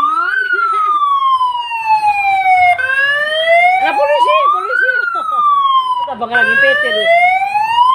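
Police and ambulance sirens wailing loudly during a street procession in Indonesia, rising and falling sweeps repeating throughout, with people talking underneath.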